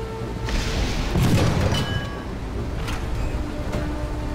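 A single muffled boom of tank cannon fire or a hit in the War Thunder combat game swells briefly and fades, followed by fainter distant thuds against quiet background game noise.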